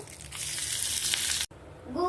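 Garlic and curry leaves fry in hot oil as a tempering for rasam, a loud, steady sizzle that stops abruptly, followed by faint talk.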